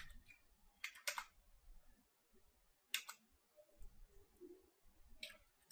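Keys tapped on a computer keyboard while entering a short command in a Windows password-cracking session: quiet clusters of clicks in three brief bursts, separated by pauses and a low background murmur.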